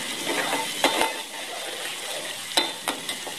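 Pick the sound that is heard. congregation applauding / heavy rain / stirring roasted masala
stirring roasted masala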